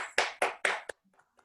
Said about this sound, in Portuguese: Carinhosamente fazer aqui uma união de palmas para que nós possamos homenagear essas mulheres maravilhosas